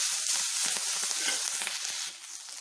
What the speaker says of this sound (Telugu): ఆకు ఇలా పచ్చివాసన పోయేంత వరకు ఫ్రై చేయాలి.